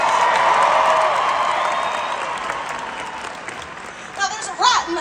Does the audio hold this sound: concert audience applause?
yes